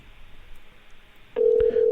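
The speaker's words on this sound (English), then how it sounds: "Now we got it ringing." Low line hiss gives way to a steady electronic ringback tone of an outgoing phone call, briefly interrupted by a click, heard close and alone.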